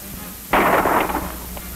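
One sharp, loud report from an M1 rifle or Browning automatic rifle cracks out, then a rough echoing tail fades over about a second against a steady background hiss.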